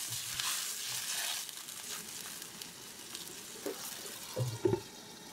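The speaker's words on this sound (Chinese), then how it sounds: "加入适量的清水，大火煮开。" Water goes into a pot of noodle broth seasoned with salt, dark soy sauce and soybean paste, set over high heat; soft sizzling and bubbling come with faint splashes and a few small clinks, all fairly quiet.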